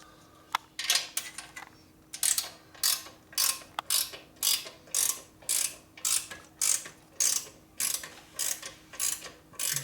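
Steady rhythmic ratcheting clicks while nuts are run onto the spring bolts of a 1964 Harley-Davidson XL Ironhead Sportster rigid chopper, close up with regular pulses and a few metallic clinks early on.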